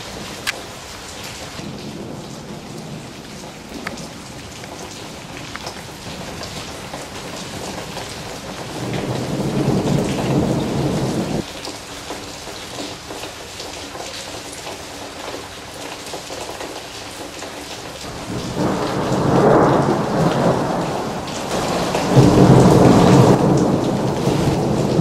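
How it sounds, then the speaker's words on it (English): A loud thunderstorm at the abandoned Six Flags New Orleans Jazzland park: steady heavy rain hisses throughout while deep thunder rumbles swell in several long rolls, with no voices. "It's very nerve-wracking being in there during a rain, lightning, thunderstorm"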